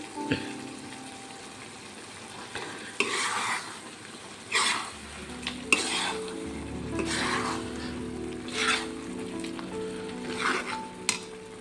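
Boiled eggs go into a simmering egg and tomato curry with pachipappu, giving a steady close sizzle and bubbling with several soft clunks and stirring scrapes, no voices.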